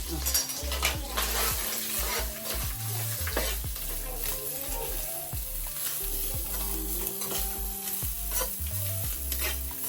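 Grated coconut frying in oil with dried chillies and curry leaves crackles steadily while a spoon repeatedly scrapes and knocks against the pan in an uneven stirring rhythm.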